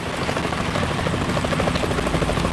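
Helicopter in Metal Gear Solid 2, rotor thudding steadily and loud, a continuous rhythmic chop that fills the scene without pause.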